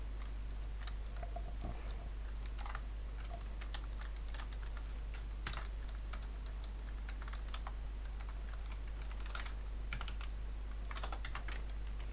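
Fingers tap a computer keyboard at a desk in quick irregular bursts of clicks, moderately close over a steady low electrical hum, with no voices.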